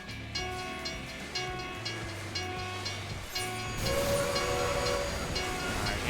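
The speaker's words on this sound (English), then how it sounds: "Or I could get hit by a train" A train rushes past in Final Fantasy XIV's Rival Wings mode, a steady rumbling roll with hissing steam and tonal whistle-like hums that swells louder and nearer toward the end.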